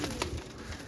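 Teddy pigeons, a breeding pair offered for sale, cooing in soft low rumbles across a brief one-second stretch, steady and close with no talk.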